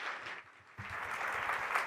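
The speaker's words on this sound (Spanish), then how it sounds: "Recibamos con un caluroso aplauso" An audience at a fiscal conference in Mexico applauding a speaker, a brief dip and then a swell of dense clapping from a room full of people, steady and moderately loud.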